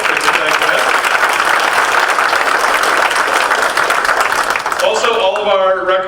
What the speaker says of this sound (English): if we could give a round of applause, there's a couple of our volunteers that were helping,